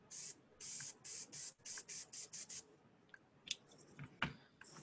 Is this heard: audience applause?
no